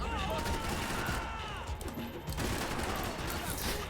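Sniper gunfire in the Max Payne video game, a dense stretch of rapid shots and crackling impacts layered over game ambience, with voices talking over it.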